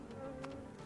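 Bees buzz in the video game Escape Academy with a short, steady, faint hum that lasts under a second.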